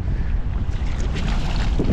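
Steady wind rushing past the microphone, a constant broadband roar with low gusty rumble throughout, no voices.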